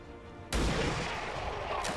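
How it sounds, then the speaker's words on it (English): Sniper rifle shot in heavily modded XCOM 2, one sudden loud blast followed by a sustained rumbling echo, with a faint second hit near the end. "Let's sniper shot it."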